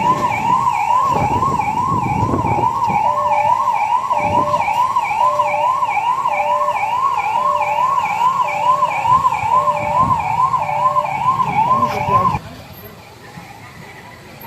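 An ambulance siren wails loudly and steadily at a police mock drill of a terrorist attack, its rising and falling two-tone cycle repeating for about twelve seconds before cutting off abruptly, leaving quieter background noise.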